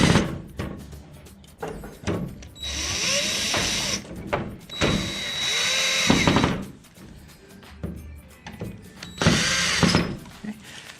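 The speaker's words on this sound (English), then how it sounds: "Keep your handle there, and go ahead and screw these in." Power drill driving screws in during furniture assembly, several bursts of whirring motor, each a second or two long, close and loud with rattles and handling knocks between.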